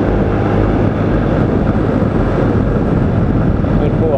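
A motorcycle ridden at speed on highway BR-367 in Minas Gerais, the engine droning under heavy, constant wind roar against the microphone, loud and unbroken throughout.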